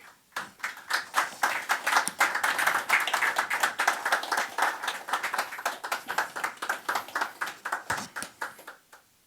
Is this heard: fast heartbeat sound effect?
no